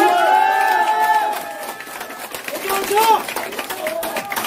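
A crowd at a Korean political campaign rally cheers and applauds loudly, a dense wash of clapping and shouting voices that swells near the end, with some calls rising above the noise.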